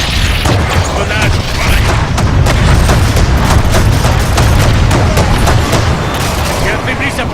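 Repeated booming blasts and rapid gunfire from grenade explosions during a monster hunt in the video game Evolve, loud and continuous, with players talking over the action.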